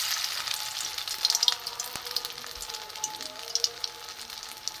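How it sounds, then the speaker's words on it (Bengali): Small soybean, egg and spice fritters dropped into white oil, frying with a moderate crackling sizzle, sharp pops and spatters scattered over a steady hiss, with no talking. "বড়ার আকারে আমি দিয়ে দেবো তেলে।"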